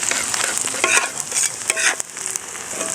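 Onions for a tawa mutton fry sizzle in a hot pan as a spoon stirs them, bright frying hiss with sharp scraping clinks, close and fairly loud, no talking.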